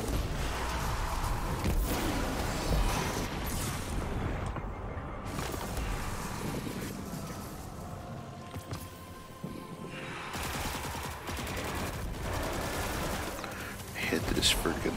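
7th Seraph weapon firing in the video game Destiny 2, dense bursts of rapid gunfire and whooshing effects layered with game sounds, loud and nearly continuous with a quieter lull midway, while a voice talks over it.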